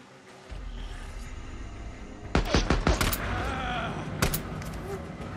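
Gunfire in the Days Gone game: a quick cluster of several loud, sharp gunshots, then a lone shot a moment later, over steady outdoor game ambience.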